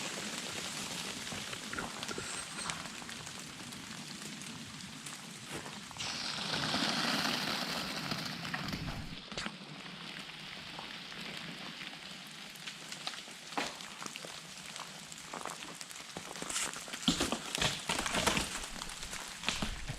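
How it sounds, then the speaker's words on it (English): Ice falling out of trees after an ice storm, a dense patter of crackling drops and clattering bits hitting the ground, steady and rain-like with a louder rush partway through. "That's all the ice falling out of the trees."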